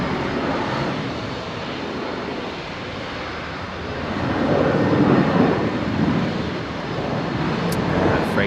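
A Rex airliner taking off at Brisbane airport, its engines producing a broad, steady roar that swells in the middle of the run, heard from a distance with no speech.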